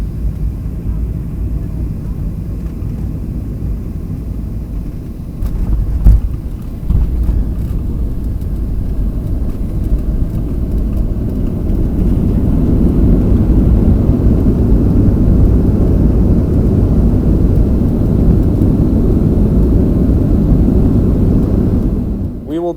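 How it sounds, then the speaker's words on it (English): Boeing 737-700 landing at Denver, heard from inside the cabin: a loud, steady low jet roar with a brief thump partway through, then the engine noise swells and holds strong, ending in a sudden drop. "enjoy this Denver landing"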